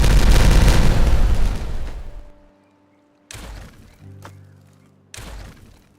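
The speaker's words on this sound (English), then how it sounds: "Let's go ahead and detonate all this" Dynamite detonating in the video game Timberborn: one loud, deep booming blast that rolls and fades over about two seconds, followed later by a few sharper thuds and impacts.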